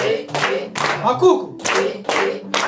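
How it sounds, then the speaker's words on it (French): A congregation at an Easter celebration claps in rhythmic bursts, strong groups of hand claps separated by short pauses. A voice calls out in between. "nous allons applaudir pour ces enseignements"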